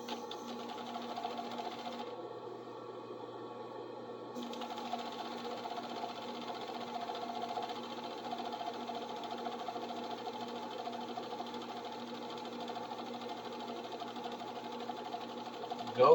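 A sewing machine runs steadily while stitching a kilt, giving a continuous near motor whir that barely breaks, with no talk over it.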